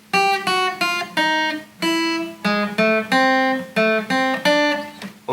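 An electric guitar plays a short phrase joining two practice bars, a run of distinct plucked notes, about a dozen clear attacks at a moderate, even pace, sounding alone and close.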